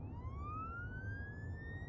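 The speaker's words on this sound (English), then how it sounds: "what's with that police car?" A police car siren in a Trauma Center: New Blood game cutscene wails with a slowly rising tone over a low engine rumble, steady and moderately distant.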